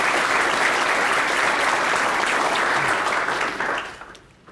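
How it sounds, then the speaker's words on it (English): An audience at a chamber of commerce annual meeting breaks into sustained applause, dense and steady, before it thins out and fades near the end. "let's give everybody a big round of applause"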